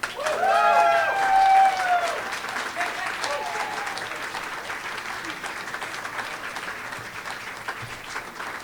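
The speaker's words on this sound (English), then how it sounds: "Let's give another round of applause for Marlon Fisher." An audience at a live storytelling event cheers and whoops at first, then settles into sustained, even applause that gradually softens.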